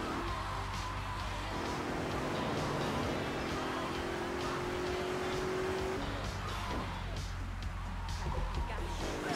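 A car driving in Grand Theft Auto 3, its engine droning steadily with a shifting tone and occasional tire noise, loud and continuous throughout the gameplay.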